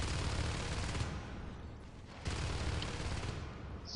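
Dense, continuous gunfire from a Natural Selection multiplayer match, a loud broadband wash of rapid shots that dips briefly midway and then resumes at full strength with no voices.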